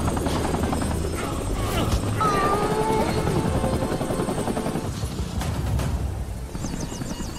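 A loud helicopter roars steadily close by, with its thumping rotor noise filling the scene while other scattered action sounds pass beneath it.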